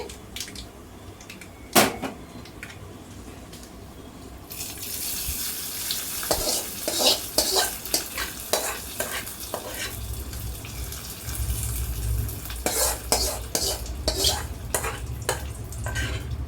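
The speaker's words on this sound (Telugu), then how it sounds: "తాలింపు తీసుకెళ్ళి పప్పులో వేసేస్తానండి." Hot tempering tipped into cooked amaranth-leaf dal: a sudden loud sizzle, then a long run of spoon scraping and stirring against the pot, close and steady with repeated clinks.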